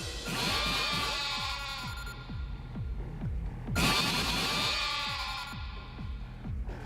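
In the video game Yakuza: Like a Dragon, sheep bleat in two long wavering cries over a rhythmic, pulsing electronic throb.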